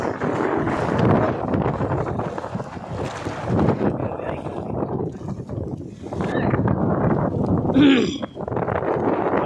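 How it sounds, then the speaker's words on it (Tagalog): Strong wind roaring across an open space, gusting and buffeting the microphone, with people talking under it and a brief tonal whistle near the end. "Hangin mga kaibigan, sobrang lakas!"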